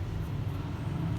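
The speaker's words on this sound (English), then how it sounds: "Excuse the noise of the tractor." A tractor engine rumbles steadily nearby in a garden during dahlia cutting work, a continuous low, heavy drone that fills the short stretch without pause or talk.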